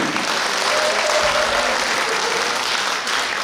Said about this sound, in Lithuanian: Jūsų plojimai klausėsi.